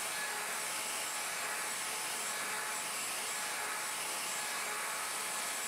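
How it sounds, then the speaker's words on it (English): A plunge router cuts overlapping full-depth plunge cuts for a mortise in wood on a Leigh FMT Pro jig, giving a loud, steady high-pitched motor whine with a cutting hiss and no talking. "Plunge the router and route the rear left mortise, starting with a series of overlapping plunge cuts at full depth."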